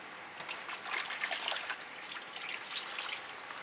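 Water trickling and dripping into a bucket from a cotton rag swipe cloth used for fluid art painting, a soft irregular patter of drips close by and fairly faint, with no voices.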